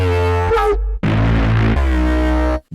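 Sampled notes played from a UVI Mosaiq instrument in round robin cycle keyboard mode, a few dense harmonic hits in quick succession with short gaps between them, loud and close with no talking.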